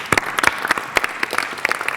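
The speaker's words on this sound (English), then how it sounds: "Okay, let's give a round of applause." Small lecture audience at a design talk clapping briefly, a short burst of scattered, fairly close hand claps that is moderately quiet.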